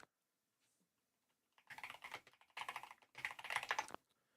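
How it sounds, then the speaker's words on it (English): Computer keyboard typing in three dense bursts of rapid keystrokes, close and fairly clear, separated by short pauses, while the player works on power armor paint settings in Fallout 4. "I think my keyboard's probably coming through the mic"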